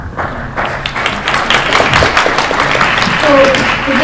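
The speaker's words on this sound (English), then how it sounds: "I just encourage you, keep your clapping if you could, just to a minimum" An audience at a port authority annual general meeting on coal concerns breaks into dense clapping that swells and holds, with a voice speaking over it.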